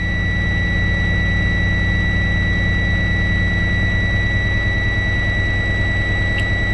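A manual Class A truck's diesel engine held at raised RPM during an air brake test, a loud, steady, unbroken drone with a constant whine above it.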